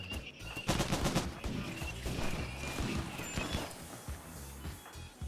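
Gunfire in the video game Rimworld during a colony raid: dense bursts of rapid shots and impacts stacked over one another, continuous and fairly loud.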